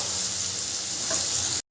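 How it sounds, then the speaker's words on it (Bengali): Sliced onions with salt and turmeric sizzle in a pan, a steady hissing fry that cuts off abruptly near the end. "এবার পেঁয়াজটা একটু লালচে করে ভাজা হওয়া পর্যন্ত আমি অপেক্ষা করব।"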